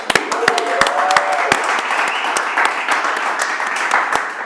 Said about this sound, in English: So everyone give a round of applause.